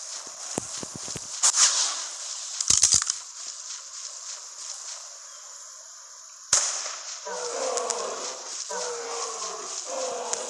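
Gunfire in the video game ARK: a few sharp, scattered shots and quick bursts with quiet gaps between them, followed by softer shuffling movement sounds.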